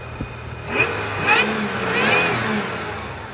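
A 2002 Toyota 4Runner with a 3.4-liter engine and second-generation TRD supercharger revs in a few quick blips from an engine bay, rising and falling over a steady idle hum, close and fairly loud.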